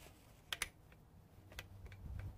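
A stuck collet on a Ryobi PBLID02 impact driver, jammed on a paddle bit, gives a few faint, sharp clicks, two close together near the start and another a second later, over a low background hum.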